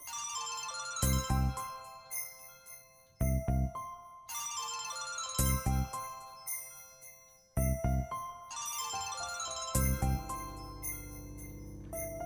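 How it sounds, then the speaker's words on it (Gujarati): A phone ringtone for an incoming call plays as a repeating melodic jingle of bright tones in regular bursts, several cycles over about twelve seconds, fairly clear and alone without speech. "આ ત્રીજી વખત ફોન આવ્યો."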